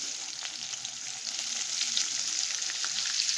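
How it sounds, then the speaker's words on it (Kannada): Onions, curry leaves, green chillies and fenugreek seeds frying in hot oil for a tamarind egg gravy, a steady dense sizzle that swells slightly, close and continuous with no talking. "ಈಗ ಇದು ಫ್ರೈ ಮಾಡ್ಕೊಳ್ಳೋಣ"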